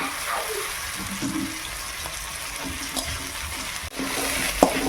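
Drumstick stems added to spice paste frying over low heat in a pan, a steady soft sizzle with occasional clatters and stirring knocks from a utensil.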